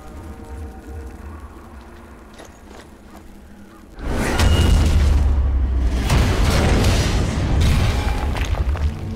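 Loud in-game explosion in the shooter Sniper Elite 4 as a gun is blown up: a sudden booming blast at about the four-second mark follows quieter ambience, then a sustained heavy roar and crackling debris that hold to the end.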